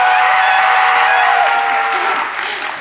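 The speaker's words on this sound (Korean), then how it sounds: "큰 박수 부탁드립니다" Audience applause fills a film festival hall at Busan International Film Festival, a dense, steady clapping that holds loud throughout and eases slightly toward the end.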